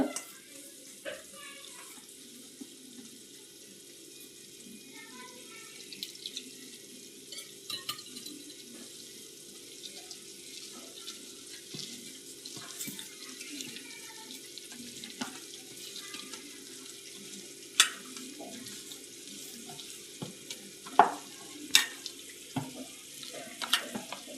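Water runs and splashes into a pan of masala that has been cooking a few minutes for Khandeshi dabukde, a steady low hiss with occasional clinks and sharper splashes toward the end, close by.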